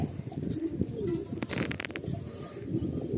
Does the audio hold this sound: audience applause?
no